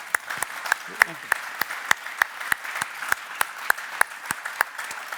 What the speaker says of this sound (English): I would say they deserve a round of applause.